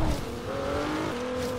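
An off-road car in a Forza game engine revs up with climbing pitch, then drops briefly as it shifts and pulls again; a short, close burst of engine with no voices.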